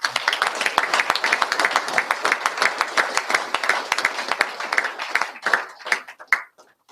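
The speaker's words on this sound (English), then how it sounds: "put your hands together in thanking these people with a round of applause" Sustained applause from a crowd at a cricket club's annual dinner, dense clapping that holds steady for several seconds and then thins out into scattered claps before stopping.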